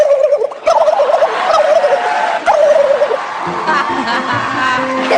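A young girl imitates a turkey's gobble on a televised talent show, a loud warbling call close to the microphone, followed by audience laughter and chatter.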